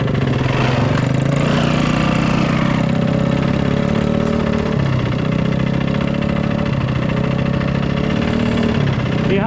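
A dirt bike engine runs hard and loud while a kid learns to shift gears, holding a steady, buzzing high rev close by with slight dips and no pauses.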